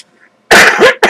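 A close, loud cough from a woman crafting an altered cigar box: one harsh burst, then a brief second cough after a short gap.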